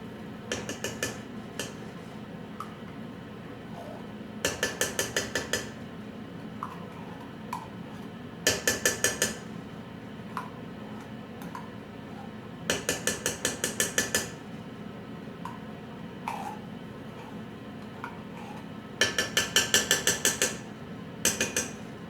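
A utensil clinks against a metal pot in sharp rapid bursts of several taps each, repeated at intervals, while tomato paste goes into a simmering sauce, close and fairly loud over a low background hum.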